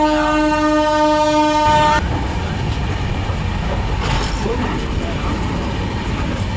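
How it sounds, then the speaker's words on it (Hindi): A Gitanjali Express train on the Nagpur to Santragachi run blows its horn in a long, steady tone, then settles into a loud, continuous rumble of wheels and carriages at high speed, heard from on board. "अपनी ट्रेन अभी हाई स्पीड पे जा चुकी है"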